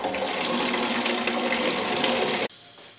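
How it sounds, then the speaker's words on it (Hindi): Water pours loudly and steadily into a hospital autoclave machine, a dense rushing splash that runs for over two seconds before cutting off abruptly, leaving a quieter trickle and room tone. "तो आप पहले बार पानी भर लेते हैं।"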